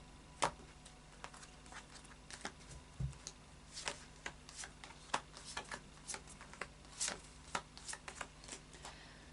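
Deck of oracle cards being shuffled by hand, a quiet run of soft, irregular riffling clicks and flicks close by, with no talking.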